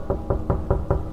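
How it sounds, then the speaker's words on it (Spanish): Five evenly spaced knocks strike a street door at night, a firm, steady, close series of thuds with no voices. "golpearon a la puerta de la calle."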